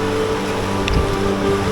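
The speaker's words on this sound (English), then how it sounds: "Beautiful river." A river in the Scottish Highlands flows steadily, a close, continuous rushing wash of water with a low rumble and gusts of wind across the microphone.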